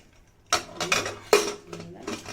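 A pressure cooker lid clatters and clinks into place on a gas stove in a home kitchen, several close metallic knocks and scrapes over about two seconds.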